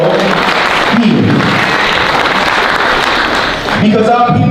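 An audience at a talk breaks into steady, dense applause, a sustained clapping wash with a speaking voice briefly heard at the start and again near the end.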